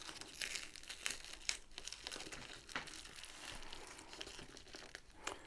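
Plastic packaging of a Diamond Dotz diamond painting kit crinkles and rustles softly as it is cut open, with a few sharper crackles among the quiet, steady handling.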